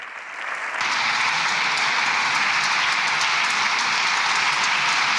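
Applause fills a parliament chamber, rising after a quieter start into sustained, dense clapping from many hands that continues evenly to the end.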